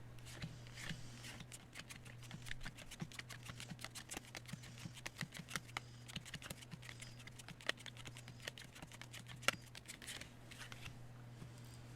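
Rapid, irregular flicks and soft slaps of playing cards landing on a pile, with a steady low hum in the background and no talking.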